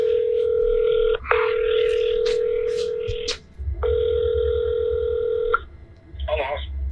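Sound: telephone call ringing on the line

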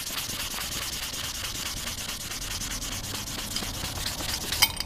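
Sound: wet sanding a motorcycle exhaust pipe with sandpaper

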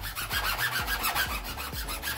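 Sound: metal files filing sharp edges of copper

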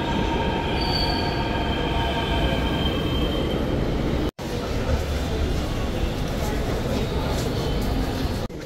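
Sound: metro train at New Delhi Airport Express Line station

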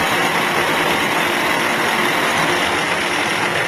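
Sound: machine working duduk wood

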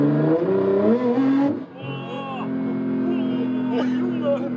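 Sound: Nissan GT-R with 1000+ hp accelerating hard

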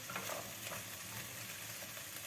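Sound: stirring yogurt in a pot

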